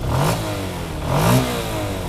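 A 2010 Yamaha Exciter motorcycle engine just started after a full rebuild, revving in two rising bursts close by, each settling back to a smooth idle between them.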